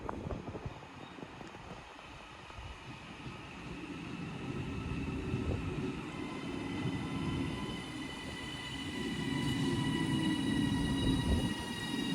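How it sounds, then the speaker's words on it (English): A double Class 331 electric multiple unit runs through Roby station toward Liverpool Lime Street, a sustained rumble and whine of wheels and motors with faint squeals, swelling louder toward the end. "Train now departing is a double 331 going to Liverpool Lime Street"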